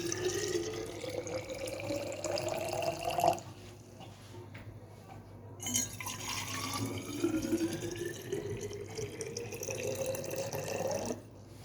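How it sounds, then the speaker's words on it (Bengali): Remaining hot water poured into a flask, a continuous gurgling stream with rising pitch as the vessel fills, interrupted briefly then resumed, in a quiet home setting. "বাকি জলটুকু নিয়ে ফ্লাস্কে ভরে রাখবো।"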